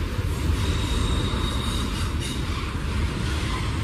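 A Norfolk Southern 19W manifest freight train rolls past as it gathers speed, a steady rumbling roar of wagons with a faint high wheel squeal running through it.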